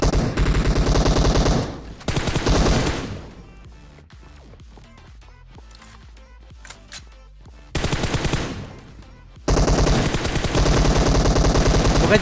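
Video game battle gunfire in bursts: loud, dense automatic fire for several seconds, then a quieter stretch of distant shots and clatter, before heavy rapid fire returns and runs to the end.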